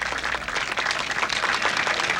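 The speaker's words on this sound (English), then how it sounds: "there's only way that you can pick a king of the hobos if you loosen your arm up and clap" Crowd applause at a hobo convention, a dense, steady wash of many hands clapping together, loud and continuous for a couple of seconds with no talk over it.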